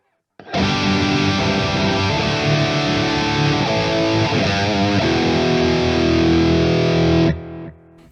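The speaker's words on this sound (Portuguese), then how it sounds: "um exemplo de pedal de overdrive, que tem justamente o efeito de saturar o sinal e transformar o som da guitarra em algo bastante diferente" Electric guitar played through an overdrive pedal, its saturated, distorted tone ringing out loud and sustained as notes and chords change for about seven seconds, then cutting off.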